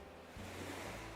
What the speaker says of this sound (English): You should hear water now.